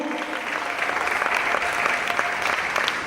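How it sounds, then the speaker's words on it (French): Audience at a University of Kisangani student debate applauds a debating pair taking the stage: dense, steady clapping from a large crowd, fairly close and even, filling all three seconds without pause. "On applaudit Maboko"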